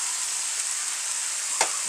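Vegetables fry with garlic and onion in a pan, giving a steady close hiss of sizzling with one brief louder scrape or stir near the end.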